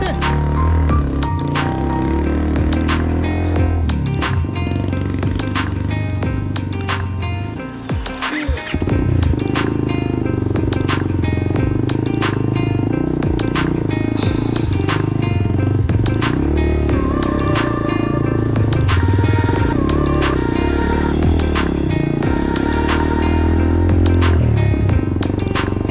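An off-road dirt bike engine drones loud and close, with a dip near the middle before the revving motor climbs back to a sustained roar.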